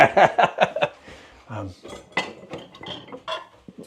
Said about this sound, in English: I need it to be whisked